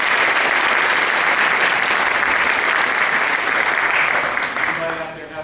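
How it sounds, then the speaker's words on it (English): Audience applause at a Charleston School of Law address on energy law, a dense sustained burst of clapping from a large crowd that fades toward the end. "Let's give a round of applause for Graham and Charleston."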